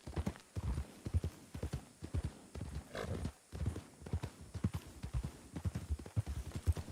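Horse hooves clip-clop at a steady walking rhythm in a western video game, close and distinct, with a brief snort partway through.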